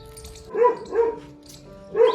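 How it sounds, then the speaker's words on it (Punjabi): A dog barks three times, spaced out and fairly close, in a Punjabi village home setting, with quiet background between the barks and no voices. "ਇਹਨੂੰ ਰੋਟੀ ਵੀ ਪਾਈ ਫੇਰ ਵੀ ਭੌਂਕੀ ਜਾਂਦਾ"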